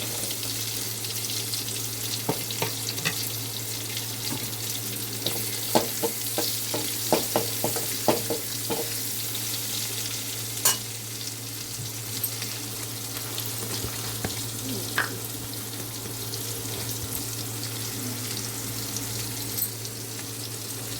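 Onions fry in a pan for an egg and prawn dish. A constant sizzle is broken by clustered bursts of stirring clicks, all over a steady low hum. No one speaks.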